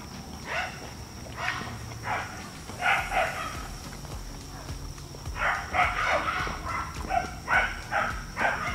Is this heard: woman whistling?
no